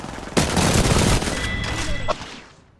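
Gunfire from a first-person shooter video game erupts as a loud, dense burst of rapid shots lasting about two seconds, then thins and fades away.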